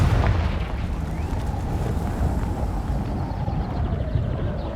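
A Confringo fire-blast spell from Hogwarts Legacy erupts in a loud, sustained roaring burst, dense and rumbling throughout with no pauses and no talking.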